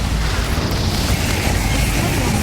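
A booming magical blast from the Expulso spell in the Hogwarts Legacy video game, a dense, loud low rumble sustained throughout with no clear breaks.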